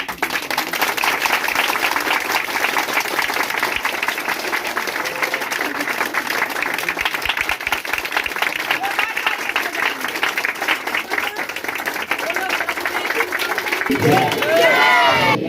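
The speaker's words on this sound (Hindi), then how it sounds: "सभी लोग जोरदार ताली बजाएंगे" A congregation at a Friday prayer service applauds loudly, a dense sustained roar of clapping mixed with crowd noise and voices, swelling at the very end.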